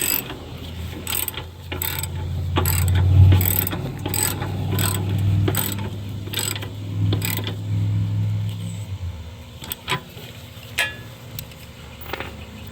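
A hand ratchet snugs up transmission bolts on a 2013-2017 Hyundai Veloster with a 1.6 L dual-clutch transmission, giving close, repeated clicking bursts over a low hum, then a few scattered metallic taps.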